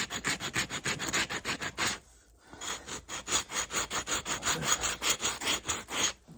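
A fairly sharp knife scrapes meat from an animal skin in rhythmic, rasping strokes about three per second, with a short pause midway before the steady scraping resumes up close.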